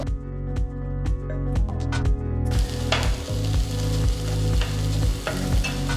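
Steady loud sizzling of sliced green capsicum and other vegetables sautéing in a pan over high flame for potato masala, with occasional clinks and stirring scrapes throughout.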